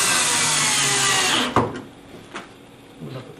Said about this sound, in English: So we take our drill